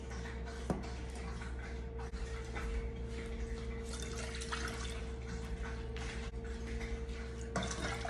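Water poured into a pot for homemade brown gravy, a steady close splashing trickle with occasional drips, heard alone without talk.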